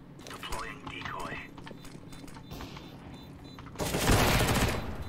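Gunfire in the video game CS during a competitive match, scattered shots under a player's excited speech, then a loud dense burst of firing near the end.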